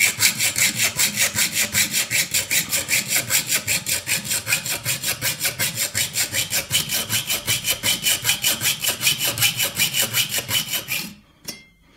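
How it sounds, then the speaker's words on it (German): A hand saw cuts through copper pipe with a fast, even rasping rhythm of back-and-forth strokes, close and loud, stopping abruptly at the end. "Irgendwann greift die Säge dann mal richtig gut und dann heißt es nur noch vor- und zurückziehen."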